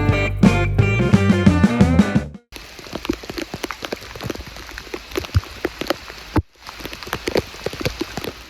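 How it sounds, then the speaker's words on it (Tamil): Heavy monsoon rain in Chikmagalur pours down in a dense, steady, close patter of drops on surfaces. It follows a short burst of music and continues alone for several seconds. "பாதி வழியிலே மழை ரொம்ப அதிகமாக பெய்ய ஆரம்பிச்சிருச்சுங்க"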